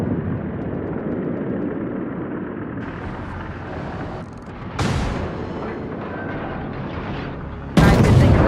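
Warship guns fire in the naval battle game World of Warships, with a steady rumble of engine and sea broken by two sharp, loud booming salvos several seconds apart.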